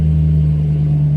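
A neighbor's pickup truck idles nearby with a steady low engine rumble and hum, starting to pull away, alone with no voices.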